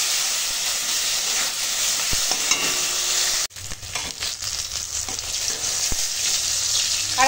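Pointed gourd frying with green chili, garlic and nigella seeds, a steady loud sizzle and hiss that briefly drops mid-clip before resuming with occasional stirring knocks.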